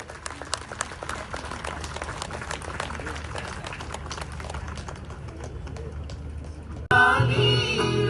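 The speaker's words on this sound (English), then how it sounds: "A big round of applause once again." Audience applause at a public event in Bengal, a dense, steady patter of many clapping hands lasting several seconds before cutting abruptly to louder, different sound near the end.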